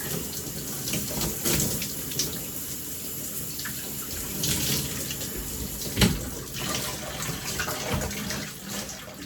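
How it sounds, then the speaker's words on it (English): Water running steadily from a tap while curly hair is rinsed out, a continuous close splashing flow with uneven surges and one brief knock partway through. "And then once you feel like it's rinsed out, rinse a little bit longer."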